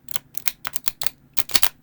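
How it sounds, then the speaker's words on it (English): A rapid series of crisp, papery clicks and flutters in uneven bursts, close by and fairly quiet, like cards being riffled together. "no right or wrong way to shuffle"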